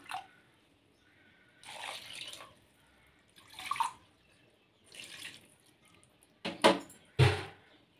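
Water is poured in short bursts into a village-style fish curry masala with fish pieces, several separate splashing pours with quiet gaps between them, the last two sharper and louder.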